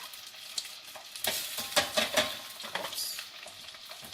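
Mushrooms hit a pan of softened onion and garlic with a burst of sizzling and frying, plus scattered stirring scrapes and clatter; a voice briefly exclaims.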